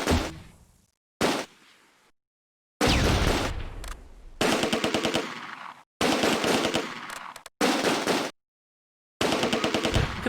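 Heavy gunfire and rapid machine-gun bursts in the Close Combat: A Bridge Too Far war game, loud close volleys separated by abrupt silent gaps.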